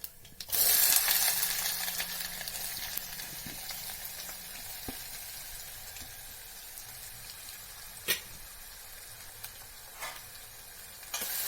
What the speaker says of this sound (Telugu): ఆయిల్ వేడెక్కిన తర్వాత ఆవాలు, జీలకర్ర, మినపగుళ్ళు, ఎండుమిరపకాయలు. ఇప్పుడు ఉల్లిపాయ ముక్కలు.